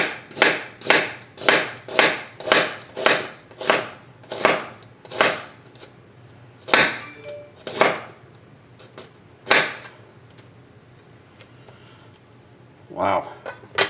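A Steelport 8-inch chef knife chops through a sticky onion on a cutting board in a steady run of about a dozen crisp, close knocks, then a few slower, scattered cuts.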